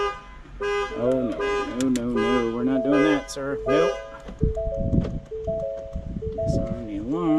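Alarm on a 2023 Ford F250 sounds loud, close warbling and pulsing honks that shift pitch repeatedly, with a voice speaking briefly over the tones.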